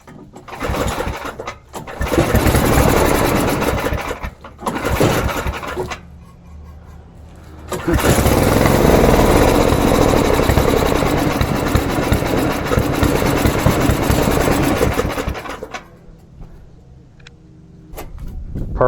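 A snowblower that sat unused all summer cranks in short bursts, catches and runs loudly for several seconds, then is started again and roars steadily before dropping back, close and alone.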